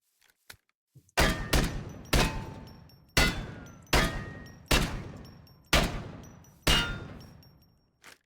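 Desert Eagle pistol fired in the TaCZ shooter game, eight loud, sharp shots in an uneven rhythm, each with a quick boom and a short decaying tail, and no talking.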